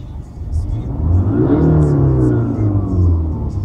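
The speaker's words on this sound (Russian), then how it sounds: "Слышите, как ревет мотор?" A Jaguar XF engine revs up loudly in neutral, the pitch climbing and holding in a steady roar before easing slightly, with a faint voice over it.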